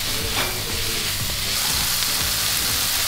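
Oil sizzles steadily in a hot pan as king oyster and shiitake mushrooms fry. A dense, even hiss runs close and continuous the whole time, with faint scraping and no voices.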